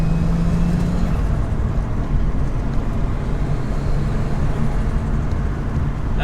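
Car fitted with a top mount Mamba 400 turbo and a tuned ECU, heard from inside as it drives and accelerates: a steady, loud engine drone with a low rising tone and constant road rumble, no talking.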